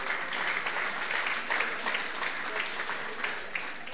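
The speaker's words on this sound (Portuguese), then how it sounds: "Para eles, uma salva de palmas." Diners at an evening association dinner in Esposende applaud the restaurant staff, a steady, close round of clapping from a room full of people.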